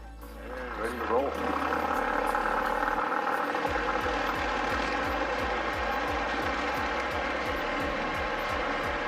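Cessna 172 single-engine propeller aircraft on its takeoff roll, engine droning steadily and loudly throughout with a pulsing low throb.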